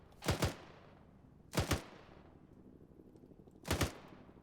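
Machine gun fire on an airborne division field training exercise outdoors: three separate short bursts, each of two or three quick loud shots, spaced about a second or two apart with quiet between them.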